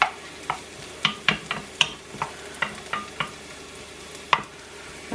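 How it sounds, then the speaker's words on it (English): Food sizzles while frying on low heat in a pan, a soft continuous crackle punctuated by repeated sharp scraping clicks of stirring at an irregular pace. "Have it on low heat, believe it or not, sizzling away."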